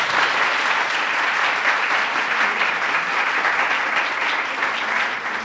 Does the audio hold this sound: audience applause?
yes